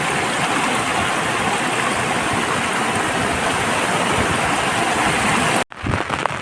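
Rainwater pours over a dam weir in a steady, loud, broad rush with no break, cut off abruptly near the end, then a brief rougher burst of noise.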